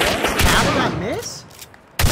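Video game shotgun shots: two sharp, loud blasts, one near the start and one at the end, with excited voices in between.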